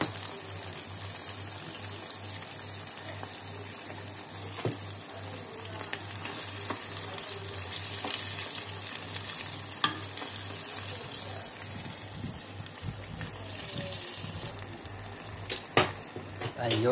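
Small fish frying in a pan, a steady soft sizzle with occasional pops and utensil knocks, fairly faint and close, with no clear speech.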